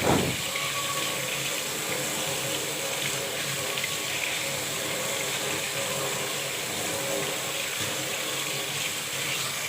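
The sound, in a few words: washing guava under running tap water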